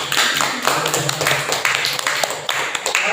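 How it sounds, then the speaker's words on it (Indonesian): Classmates in a university teacher-training class give a round of applause, a busy mix of claps and taps at fairly steady loudness for about three seconds, close by with no speech. "beri terus untuk tepuk tangan ke temanmu"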